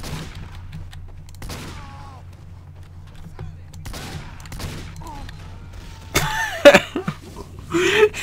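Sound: gunfire in the Team Fortress 2 video game

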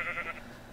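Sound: giant sheep bleating in Minecraft Gulliver mod video game

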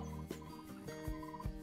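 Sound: turkey gobbling in a hunting video game

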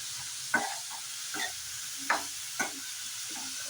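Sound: stirring onions with salt and turmeric

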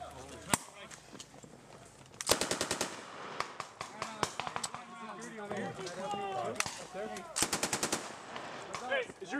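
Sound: machine gun fire during a Marine training exercise

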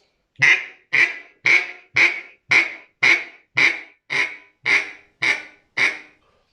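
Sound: duck call whistle imitating duck quack

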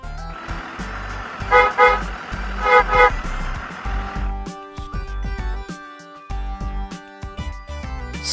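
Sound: bus engine and horn

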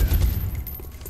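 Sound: covering fire gunshots in XCOM Enemy Within video game

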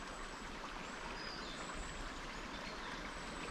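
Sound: river water flowing, Ulo river

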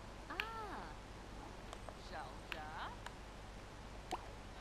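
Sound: cat meowing in The Sims 4 video game

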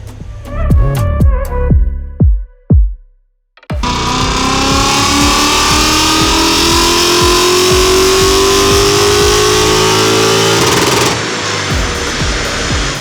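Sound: Lexus IS-F engine revving during dyno power measurement

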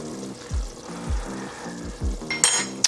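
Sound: stirring chili cheese pasta in a pot

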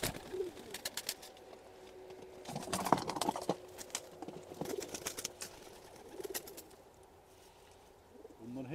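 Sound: pigeons

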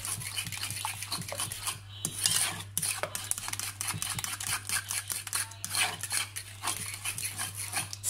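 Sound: stirring strawberry cheesecake mixture with a fork

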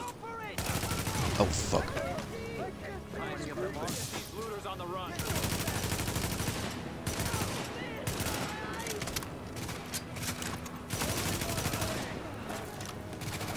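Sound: gunfire in the video game The Division

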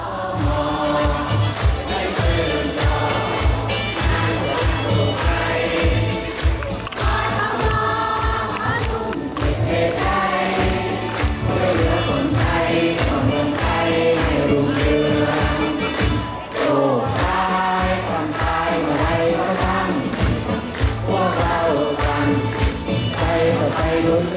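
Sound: crowd clapping and singing a march

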